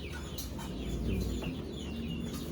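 Young chickens cluck and chirp in a coop, a busy overlapping chatter of small calls at moderate distance, steady throughout.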